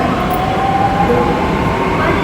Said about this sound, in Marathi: आपली मेट्रो आता समोरून येते.